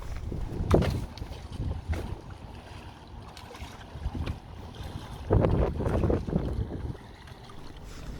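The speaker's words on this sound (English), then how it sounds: "because it's bulky and the wind's behind me, it is catching a bit of the wind" Wind blowing from behind against a bulky inflatable kayak on the River Ancholme, a steady rushing gust noise with low rumbling buffets and a few louder surges, heard alone.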